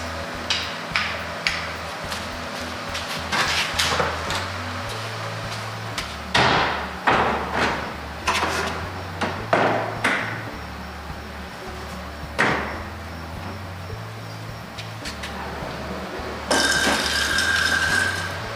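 Rustic wooden sliding barn door being hung, with a run of sharp knocks and clunks of hardware and wood, some loud bangs spaced irregularly, and a brief scraping slide near the end.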